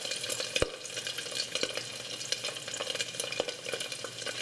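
Hot oil sizzles steadily while pork pieces fry for lechon kawali, a continuous crackling hiss with sharp pops and spatters scattered throughout, close and fairly loud, with no voices.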